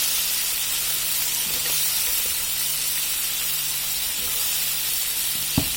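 Potatoes fry in a tangra fish curry in a pan over high heat, giving a loud, unbroken hiss that holds steady throughout and ends with a single soft knock.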